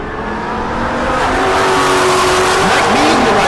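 An S550 Mustang drag race car makes a loud, close run, its engine roaring steadily and rising in pitch across the whole stretch.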